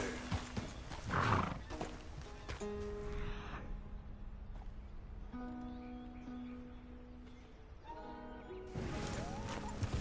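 A horse being ridden in the video game Red Dead Redemption 2, with hoof clip-clops, a whinny and snorting over a steady game ambience. No one talks.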